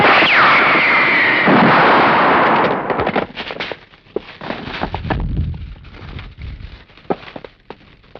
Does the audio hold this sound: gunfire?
yes